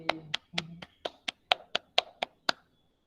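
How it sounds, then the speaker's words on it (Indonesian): Children clap together in a classroom lesson, about ten sharp, fairly even claps spread over three seconds, with a brief voice at the start. "Tepuk tangan anak-anak."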